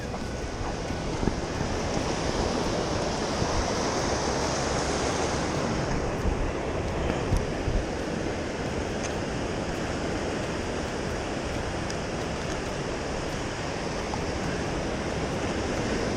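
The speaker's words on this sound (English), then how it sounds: "We're waiting for those waves to come down." Ocean waves break on the shore during surf fishing for corbina and barred surf perch, a loud, continuous roar of surf mixed with wind noise on the microphone, heard alone without voices.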